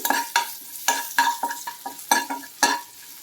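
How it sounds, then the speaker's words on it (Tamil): Green chilli and grated ginger sauté in hot oil while a spatula scrapes and stirs in quick, rhythmic strokes, each with a bright sizzling burst, close and fairly loud, with no voices. "அது கூடவே கொஞ்சம் திருவன இஞ்சி ஆட் பண்ணிக்கிறேன். இது கொஞ்ச நேரம் வதங்கட்டும்."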